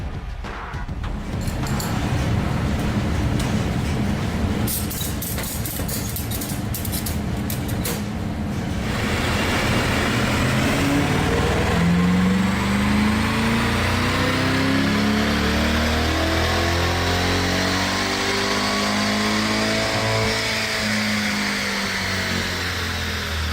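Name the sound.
C8 Corvette running a baseline pull on the dyno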